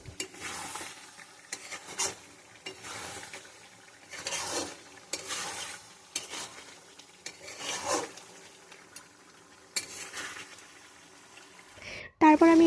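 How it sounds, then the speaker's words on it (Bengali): Pre-fried potatoes stirred into a Bengali country-chicken curry in a pan give soft sizzling bursts and repeated scraping strokes of a spatula at a steady rhythm, ending with a sharp metallic clink of utensils. "সেগুলো আমি এখন দিয়ে দিলাম আর কিছুক্ষণ কষিয়ে নিলাম"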